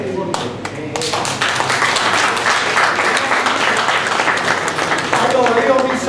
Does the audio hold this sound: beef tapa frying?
no